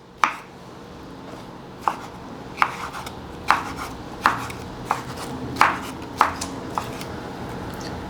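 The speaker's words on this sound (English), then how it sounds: "We chopped up that mango." A knife chops through a mango on a cutting board, giving about a dozen sharp, separate taps at an uneven pace, close and clear over a quiet room.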